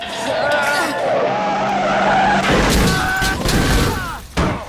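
Tires skid and squeal loudly during a car chase scene in a Child's Play movie, a sustained screech with engine roar and crashing noises, while a voice talks over it.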